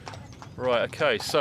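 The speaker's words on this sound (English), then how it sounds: "We've got a couple of horses going by." A couple of horses pass by at a tactical training area, their hooves clip-clopping steadily in the background while someone talks over them in the foreground.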